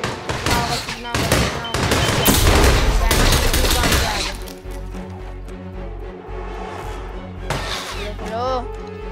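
Bursts of rapid gunfire and crashing impacts in the game Hitman 2 dominate the first half, then give way to a driving electronic score with scattered shots over it.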